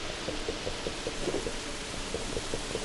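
Steady rain falling outside in a zombie apocalypse video game, a constant wash of drops with faint recurring taps on a surface, moderate level and even throughout, no voices.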